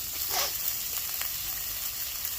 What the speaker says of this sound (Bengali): এবার ভালো করে ভেজে নিতে হবে এগুলোকে